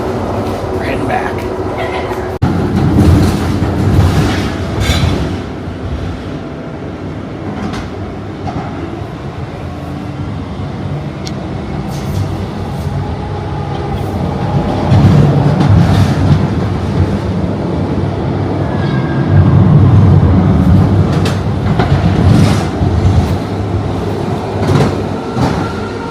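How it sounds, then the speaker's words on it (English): Light rail train in Portland, Oregon pulling out of a station, a steady rumble and rolling rail noise building and swelling over the platform, with people talking nearby throughout. "Just got off the train, which I think is departing. Yep, departing. Pulling out of the station"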